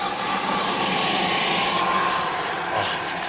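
A model Thunderbolt jet comes in to land on an airstrip at a jet model show in Czechia, a steady, loud turbine whine and roar that slowly fades slightly as it passes.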